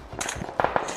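A few quick gunshot cracks from the PUBG Mobile video game, short sharp pops in a rapid cluster heard under faint game ambience.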